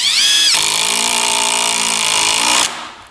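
A Ryobi impact driver rated at 3,800 impacts per minute drives deck screws in one loud, close burst of rapid hammering under a motor whine, lasting about two and a half seconds before winding down; no one talks.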